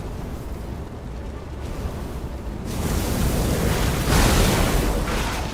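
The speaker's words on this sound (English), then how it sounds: "The explosion from my flame arm pushed me off." A flame-arm explosion in Ethical Puppet Adventure, a broad roaring, rumbling burst that swells louder in the second half and holds as a sustained blast-like wash, with no talking.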